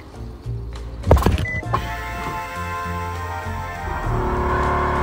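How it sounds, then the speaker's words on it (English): Electric pump whirring as a car's air suspension raises it from a lowered stance, with a sharp mechanical clunk near the start and a steady motor whine building and holding close by. "air up the car so we can actually see where the turbo is"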